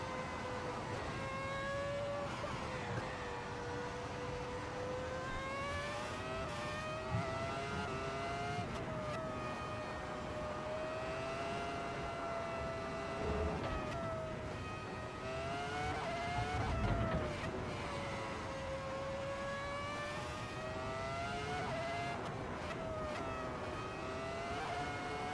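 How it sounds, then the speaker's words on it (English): A 2004 Formula 1 car races around a Nuremberg circuit in the Assetto Corsa driving game, its high engine whine steadily rising and falling through gear changes, with occasional thumps and scrapes from the undercarriage, close and continuous, no talking. "Hearing the undercarriage of the F1 car just getting battered and beaten"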